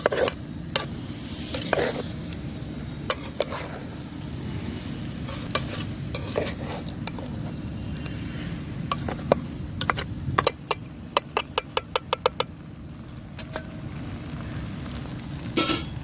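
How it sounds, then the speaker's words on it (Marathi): Rice and biryani mixture being stirred in a pot: steady close scraping and churning of the spoon under a constant sizzle, with sharp metallic clinks against the pot. "आता हलवून घेते सगळं मिक्स करून घेते"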